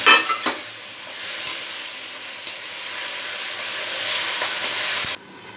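Mashed ice apple (munjalu) fries in oil with turmeric and onions, giving a steady, close sizzling hiss broken by a few sharp stirring clacks from the pan.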